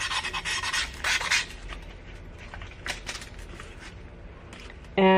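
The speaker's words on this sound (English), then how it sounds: "5 minutes since I've been sanding it" Sandpaper rubs against chipped glass in brisk rasping strokes, loudest in a burst of scraping near the start, then lighter intermittent scratches before a sudden louder sound at the end.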